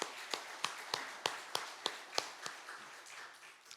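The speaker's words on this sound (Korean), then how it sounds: "우리 모든 총대원들을 위해서 우리 큰 박수 함께 드리도록 하십시다" Delegates at a Korean Presbyterian church general assembly clap in a slow, unified rhythm, crisp regular claps over a lighter scatter of applause that gradually fades.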